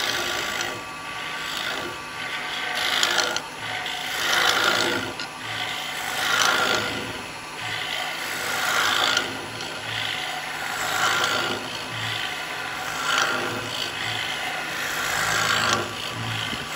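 A small cowboy hat turns on a wood lathe while a carbide chisel scrapes the spinning wood, giving a steady rasping hiss that swells and fades in rhythmic passes, fairly quiet and close with no talking.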